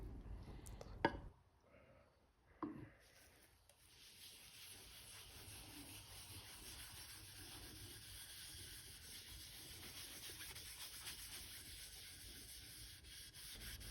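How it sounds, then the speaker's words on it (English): Tru-Oil finish is rubbed by hand into a walnut piece, a soft, steady, faint scrubbing that runs continuously after a couple of brief knocks at the start. "work the finish into the wood the same way we did with the Armor Seal"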